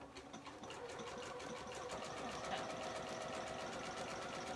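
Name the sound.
sewing machine stitching a buttonhole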